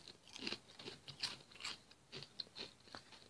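Crunchy bites and chewing of sour cream and onion flavoured crisps, close and quiet, with a steady run of sharp crackling crunches and no talk.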